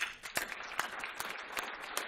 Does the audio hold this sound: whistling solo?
no